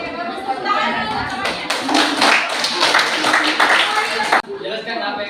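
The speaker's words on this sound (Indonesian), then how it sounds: "Oke, bagus tepuk tangan." A classroom of students claps hands together, a dense burst of applause that builds, holds loudly for a few seconds and then cuts off sharply.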